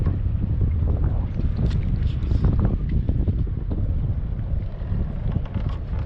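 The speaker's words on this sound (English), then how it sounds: "Very windy after a cold front." Strong wind on Lake Lanier after a cold front roars and buffets the microphone continuously, with lapping water and the knock of a small boat underneath, no talking.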